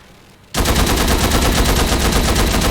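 Continuous rapid automatic gunfire from a weapon in the video game Postal 4, starting abruptly after a quiet half second and then hammering on loud and steady without a break.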